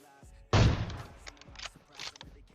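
A loud gunshot rings out in PUBG Mobile during a shotgun and sniper fight. It is followed by a decaying tail and smaller thuds and clicks, with no voices.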